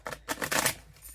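A deck of cards shuffled by hand, a few quick riffling bursts close up, brief and crisp with pauses between.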